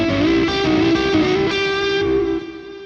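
Electric guitar with distortion and effects plays bluesy chord tones, sustained ringing notes changing about every second and a half, loud and close with no voice.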